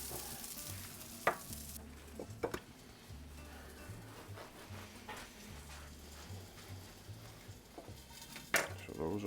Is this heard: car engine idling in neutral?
no